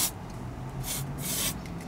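An aerosol can sprays in short bursts, two or three hissing blasts of moderate loudness close by with brief pauses between them, no voices.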